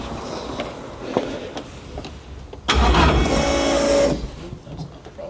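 A turbocharged Honda K20 engine fitted in a Ferrari, run for the first time in a year, cranks and catches, roaring loudly for over a second before settling back down amid quieter background noise.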